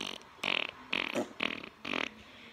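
A person vocally imitates farting with four short buzzing, sputtering bursts in quick succession, close and fairly loud, with brief gaps between them.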